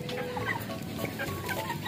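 Chickens cluck steadily as they gather close to be fed, several birds near and fairly loud, with soft scratching and movement underneath.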